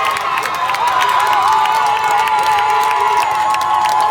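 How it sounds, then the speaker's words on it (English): A crowd cheers and shouts at a protest near the Barclays Center after a bus driver refused to transport protesters, with loud, continuous whoops and applause filling the whole stretch up close. "people were all cheering"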